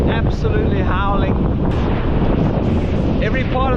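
Strong wind howls and buffets outdoors, a steady loud roar of gusts battering the microphone throughout, with faint rustling underneath and no clear speech.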